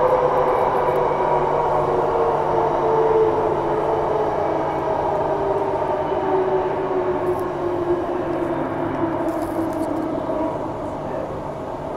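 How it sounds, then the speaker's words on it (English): A passenger train on the Perth to Midland line runs steadily for the whole stretch, its rumble and hum heard from inside the carriage, with a slight drop in level near the end. "this train runs from Perth to Midland"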